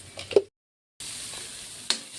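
Curry leaves go into hot oil for a green mutton curry: a moment of silence, then a sudden steady sizzling hiss and a brief utensil clatter.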